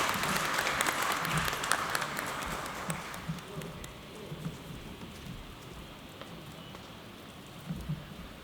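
Audience applause at a book discussion event during a felicitation, a dense clatter of clapping at first that thins into scattered, softer claps and low murmuring.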